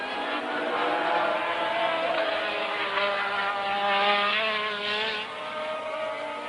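Formula 1 race car engines at the 1984 Brazilian Grand Prix give off a loud, sustained high-pitched whine that rises and falls in pitch as the cars pass, with no talk over it.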